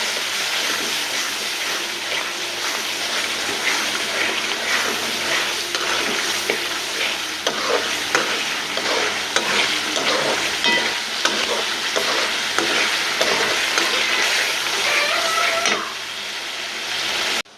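Spice paste and tomatoes are sautéed for a pabda catfish curry, giving a loud, steady sizzle with continuous stirring scrapes and wet bubbling throughout, ending abruptly.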